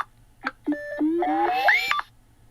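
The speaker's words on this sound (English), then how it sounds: "Now you got your ringtones." Ringtone on a Nothing Phone 3 smartphone: a bright electronic melody of stepped and gliding synthetic tones, starting with a couple of short blips, then rising phrases, played alone and fairly loud before cutting off.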